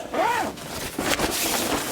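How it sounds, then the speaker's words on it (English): A zipper pulled closed along a fabric hanging bag, two quick raspy zips in close succession, near and clear with no talking. "do the zip"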